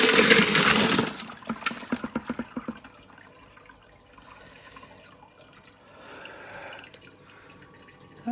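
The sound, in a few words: emptying rock tumbler barrel of amazonite slurry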